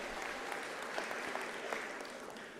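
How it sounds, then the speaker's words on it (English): Dense, steady applause from an audience at an academic year opening ceremony, greeting a choir; a broad wash of clapping, moderately distant and continuous throughout. "Thank you for that round of applause for the choir."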